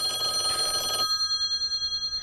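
A telephone rings inside an old radio station in a Halloween audio drama, a loud bell-like trill for about a second before cutting off, leaving a steady electrical hum.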